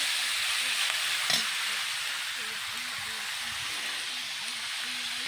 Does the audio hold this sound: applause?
no